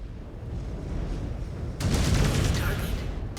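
Mech weapons fire and explosions in MechWarrior 5: Clans, a dense rumbling barrage that swells suddenly into a louder burst of blasts halfway through, heavy and close, with a voice speaking over it.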